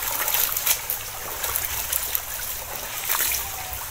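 River water flows and trickles steadily, a broadband rushing wash with small splashes, fairly close and continuous with no talk over it.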